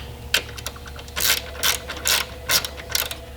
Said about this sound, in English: Tighten up the bolts on it.